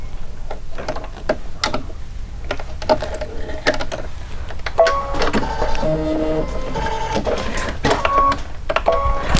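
A Solaris embroidery machine stitching stripes, a busy mechanical whirring with rapid ticking needle strokes and rising motor tones, steady and close throughout, with no voices.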